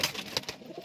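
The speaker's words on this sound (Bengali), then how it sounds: "তো দেখো এখানে বেশ কিছু পায়রা রয়েছে।" Fancy pigeons in a loft giving a brief, close coo amid soft rustling, lasting under a second with no speech.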